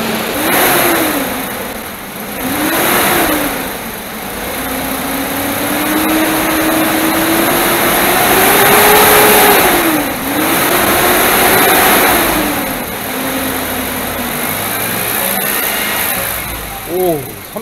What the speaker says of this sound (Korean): 오, 3000rpm 이상 올리기가 힘들 정도로 시끄러워요.